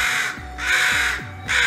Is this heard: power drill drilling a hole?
no